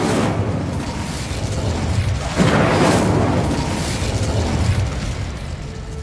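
Incendio fire spell cast in the video game Hogwarts Legacy: a loud, continuous rushing roar of flame with a heavier burst swelling around the middle, heard alone.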